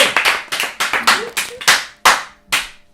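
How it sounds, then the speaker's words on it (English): A quick burst of sharp, loud hand claps, close by and irregularly spaced, with a few slower final claps; voices briefly mix in. "quietly clapping in the corner"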